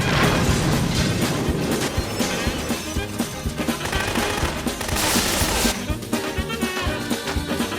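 Loud, dense gunfire and explosions from the 1991 action movie Do or Die, with rapid bursts of shots and booms overlapping continuously without a break.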